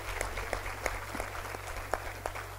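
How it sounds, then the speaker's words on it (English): Scattered applause at a college athletics hall of fame ceremony honors the Director of Athletics, fairly light clapping over a steady low hum, with distinct individual claps standing out now and then. "give a round of applause for Jim, who does such a great job as our Director of Athletics"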